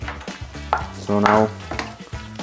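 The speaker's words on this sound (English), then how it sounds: "And now I just start cooking the bacon" Bacon cooks in a pan with a low sizzle under a man's speech and a brief burst of louder frying noise in the middle.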